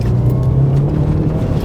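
A 2.0-litre turbo Subaru Legacy wagon drives along, giving a steady, fairly loud low engine drone and road rumble that holds an even pitch through the short stretch, with no voices.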